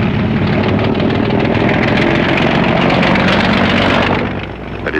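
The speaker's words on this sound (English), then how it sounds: "a giant Fiat goes into the lead round the old Dieppe circuit" A giant Fiat racing car on the old Dieppe road circuit, its engine a loud, continuous rough roar that stays near and steady before easing off slightly at the end.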